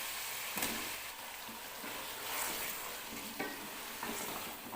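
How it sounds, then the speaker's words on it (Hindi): Masala for aloo matar frying in a pot over medium heat, a faint continuous sizzle with occasional stirring scrapes and light clicks of a spoon. "अब हम इसे दरमियानी आंच पर 15 मिनट के लिए पकाएंगे, अच्छी तरह से भूनेंगे"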